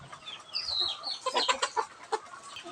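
Breeder hens that have recovered from illness cluck and squawk in a series of short calls, nearby and moderately loud, with a higher drawn-out note early on.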